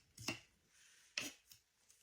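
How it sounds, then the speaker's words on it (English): A few quick knife chops on a board, made with a slicer knife while cooking a home meal; two sharp strikes about a second apart, then a softer third and a faint fourth, close and quiet. "This is not a good chopping knife when you get down to the nitty gritty"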